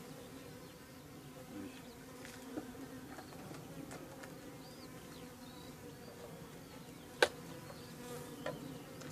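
Honeybees hum and buzz around an opened hive during a honey harvest from a first-year swarm, a steady close drone with individual bees zipping past, plus faint handling clicks and a brief spoken word.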